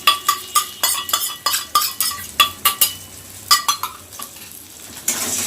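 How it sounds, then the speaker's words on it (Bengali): Beaten egg fries with onions in a pan, a spatula scraping and clanking against the metal in quick, rhythmic strokes over a steady sizzle, close and loud. "এবার খুব তাড়াতাড়ি করে খুন্তি দিয়ে ডিমটাকে ভালো করে ভাজা করব।"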